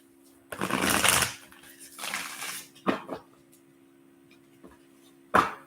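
Numerology cards are handled and shuffled close by in a quiet room: one long rustling burst, then a softer one and several short flicks and taps, with pauses between.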